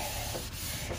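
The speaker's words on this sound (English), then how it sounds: "So I ended up doing it the hard way, the sanding everything by hand." Steady, continuous abrasive rubbing of sandpaper on oak by hand, a dense gritty hiss with slight swells in the strokes, close and alone.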